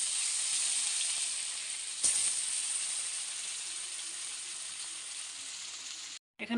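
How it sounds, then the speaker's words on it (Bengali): Fish sizzle loudly in hot oil in a home kitchen, a steady close hiss of frying that runs throughout with a brief break near the end. "দেখো তেল গরম হয়ে গেছে, আর এখন আমি মাছগুলো দিয়ে দিচ্ছি"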